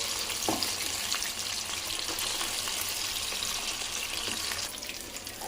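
Chicken popcorn deep-frying in hot oil in a kadai over a medium flame, giving a steady, dense sizzle and crackle with a few brief clinks, heard alone.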